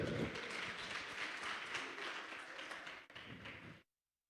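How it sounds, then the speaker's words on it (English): Audience applause at a youth weekend event in the Northern Cape, a dense burst of clapping from many hands that carries steadily for a few seconds and then cuts off abruptly. "Ladies and gentlemen, allow a round of applause for Gershon."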